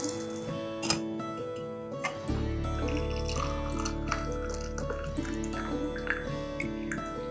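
Turmeric root decoction being strained, a steady trickle of liquid pouring through with small drips and clinks, running continuously for several seconds at moderate loudness with no talking.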